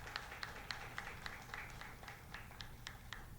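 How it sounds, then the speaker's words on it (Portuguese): A small group in a municipal council chamber gives a round of applause, sparse, evenly spaced claps sounding faint and somewhat distant, with no talk over them. "salva de palmas para o seu Zezito por esses 4 meses"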